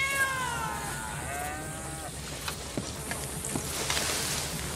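A house cat in the video game Red Dead Redemption 2 meows several times on a porch, drawn-out rising and falling cries close by, followed by faint clicks and rustles with no talking.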